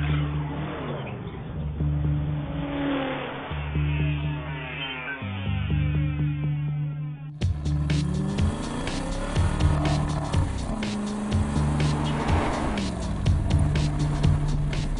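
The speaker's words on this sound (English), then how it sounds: "Let's drive the 2012 Aston Martin Vantage Roadster" A 2012 Aston Martin V8 Vantage Roadster is being driven, its V8 engine revving up and down through the gears in a loud, continuous drone with rising and falling pitch.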